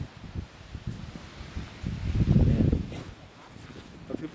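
Breezy winter wind gusts outdoors at the coastal Point Vicente Lighthouse, buffeting the microphone with low rumbling swells that peak midway and then ease off.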